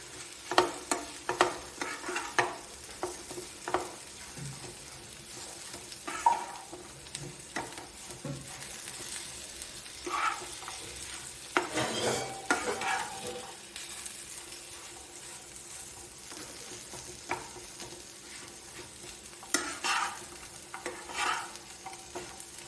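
Raw plantain slices seasoned with turmeric, salt and chili powder fry in a pan, a continuous soft sizzle broken by repeated scraping stirs of a utensil against the pan.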